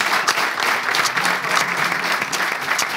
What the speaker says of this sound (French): Bon, ça s'applaudit.